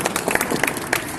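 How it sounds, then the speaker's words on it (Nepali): A brief burst of audience clapping at a club charter handover and installation ceremony, a dense patter of many hands that stays fairly steady and moderately loud throughout. "एकपल्ट चाहिँ ब्लडहुड परिवारले जोरदार तालीले सम्मान गरिदिनु होला"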